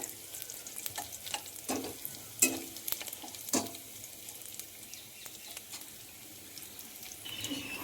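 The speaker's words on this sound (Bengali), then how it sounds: "এখন মশলাগুলো একসঙ্গে মিশিয়ে নিচ্ছি" Spices sizzle in a pan while being stirred for a brinjal, potato and tomato curry, with soft frying crackle and intermittent scraping strokes of the spoon, fairly quiet and close.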